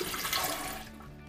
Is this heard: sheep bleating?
no